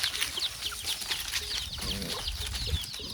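Chickens clucking and chirping amid a busy, noisy farmyard backdrop, with scattered bird calls close by.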